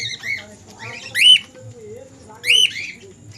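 Pet budgerigars and cockatiels at a bird seller's in Haldia give sharp whistling calls and chirps, with two louder squawks standing out over quieter chatter and low background noise.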